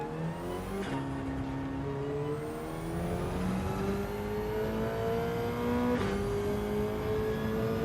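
A race car engine in Gran Turismo 7 winds up through the gears, rising steadily in pitch with brief dips at two upshifts, loud and up close with no voices.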